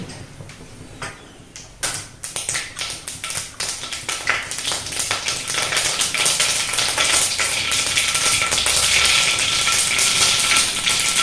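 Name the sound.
mustard seeds sputtering in hot oil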